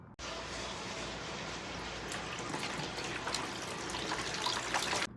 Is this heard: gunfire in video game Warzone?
no